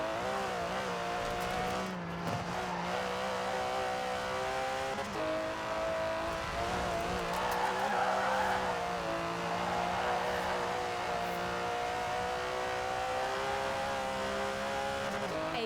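An Aston Martin DB11's 5.2-litre twin-turbo V12 in the racing game Forza Horizon 4 drones steadily under load, its pitch shifting through gear changes and rising again, heard fairly quietly and continuously without talk.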